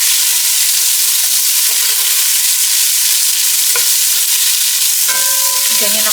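Chicken and pork adobo frying in a pan with chili produces a dense, loud hissing sizzle throughout, with a couple of brief scraping stirs near the end.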